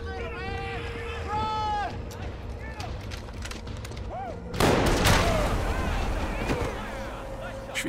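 A single loud gunshot cracks out midway through a scene in a Polish-dubbed film, set among continuous voices and background action noise.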